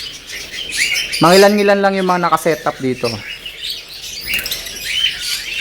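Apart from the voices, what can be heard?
birds chirping in a farm aviary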